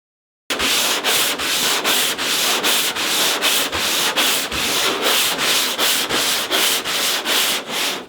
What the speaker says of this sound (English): it's just a lot of sanding